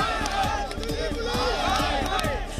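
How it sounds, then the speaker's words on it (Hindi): A large crowd gathered outside a police station chants slogans against the police in rhythmic, repeated shouts, loud and dense with many overlapping voices. "लोग पुलिस के खिलाफ नारेबाजी भी कर रहे थे।"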